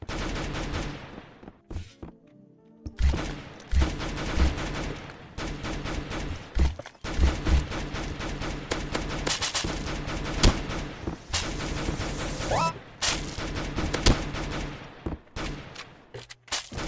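Gunfire from a weapon in the shooter game Banana Shooter, with loud, repeated bursts of rapid shots separated by short pauses and the odd single crack, close and punchy, no one talking.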